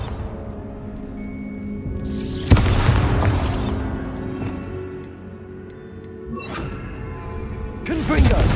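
Bombarda explosion spells in Hogwarts Legacy, a sharp blast near 2.5 s and another near 8.2 s, with softer crumbling rumbles between them over a busy game background.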